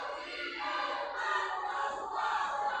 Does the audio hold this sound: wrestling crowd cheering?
yes